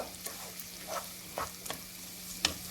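Rice toasts in a pan for pilaf, a faint, soft sizzle broken by intermittent scraping stirs and light clicks, with no voices.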